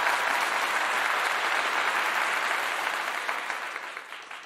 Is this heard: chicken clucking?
no